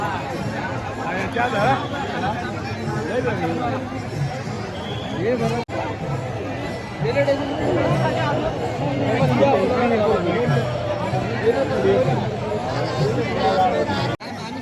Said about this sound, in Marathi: अंगोली करण्यासाठी खूप अशी गर्दी आहे पाहू शकता